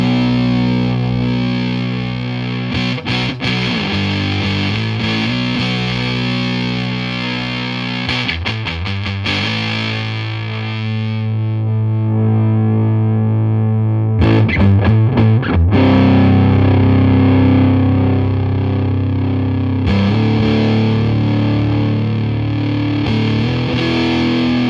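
A PastFx Patriarch fuzz pedal, a Civil War Big Muff variant, driving an electric guitar through thick, saturated chords and riffs with long, heavy sustain, loud and continuous with brief choppy passages in between.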